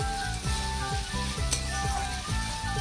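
Tomato dropped into a sizzling meat curry with ginger-garlic paste and fried onion, a loud close frying hiss under a steady hum with an occasional sharper crackle.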